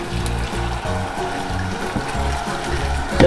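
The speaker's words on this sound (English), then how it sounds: "I'm going to pour it on the spinach" Boiling water pours steadily onto spinach with a continuous trickling splash, fairly close, with a low hum underneath and no talking.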